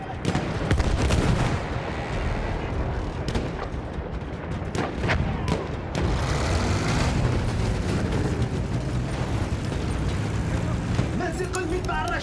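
Dense artillery and gunfire from a Battlefield 1 World War I battle played on Android cloud gaming, continuous loud booms and rattling shots layered over a constant roar for the whole stretch.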